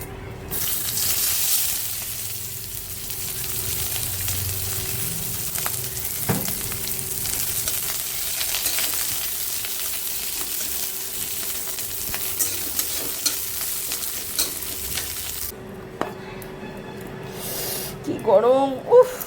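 Potatoes frying with dried chillies in a pan, a steady close sizzle and stir running the whole time, with a few brief clinks near the end and some background voices.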